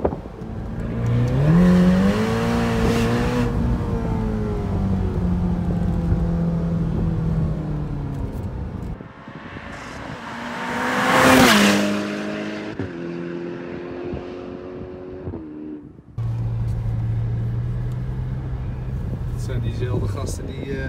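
Ferrari Portofino engine revving after a downshift, loud and close, rising and falling in pitch through several surges, with people talking over parts of it.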